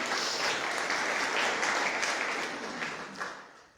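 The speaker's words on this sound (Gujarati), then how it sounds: "એમને માટે એક જોરદાર તાળી થઈ જાય." Sustained audience applause at a Gujarati literary festival event, a dense, even clatter of many hands that holds steady and then gradually tapers off near the end.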